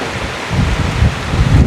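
Wind and rain outdoors at a car park by Blue Lagoon 2 in Vang Vieng, a steady broadband rush with gusty low buffeting swelling and easing throughout, close to the microphone and no voices.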